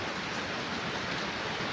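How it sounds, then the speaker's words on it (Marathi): Heavy rain pouring down on a fishing outing, a dense, even hiss of falling water that fills the whole brief stretch, close and steady with no voices. "इतका पाऊस आहे ना."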